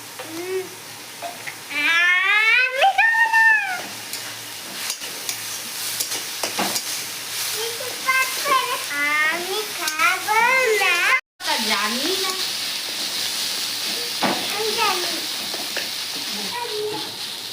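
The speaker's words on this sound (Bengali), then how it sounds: "দেখেন পেঁয়াজ আদা রসুন খুব ভালো করে ভাজিয়ে নিচ্ছি পুরো লাল লাল করে" Onion, ginger and garlic fry in a pan for a Bengali fish curry with eggplant, a steady sizzle running under stirring, with someone speaking over it for much of the time.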